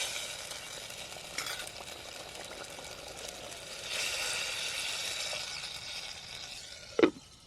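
Softened tomatoes cook in a pan on a village kitchen fire as water is poured in, giving a steady hiss and sizzle that swells midway, with a sharp clink of a utensil near the end and no talk.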